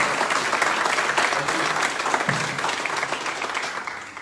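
Loud, dense clapping from a crowd at a company sales awards celebration welcomes a regional manager, sustained and close throughout with a few faint voices mixed in.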